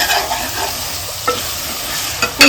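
Ginger and garlic fry for mutton kulambu in a sizzling pan, with a constant close hiss and a few sharp stirring scrapes, the last and loudest at the very end.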